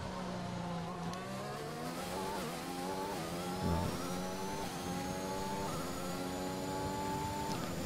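A Porsche F1 car in the F1 2021 racing game runs at a steady high-revving engine whine, with pitch stepping up through the gears and a brief rough stutter midway. No one talks.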